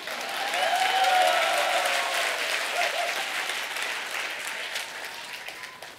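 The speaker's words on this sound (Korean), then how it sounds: "박수 치려면 화끈하게 치십시오" An audience at a political concert event in Busan breaks into dense, sustained applause that swells loudly, then slowly tapers off, with a faint crowd murmur beneath.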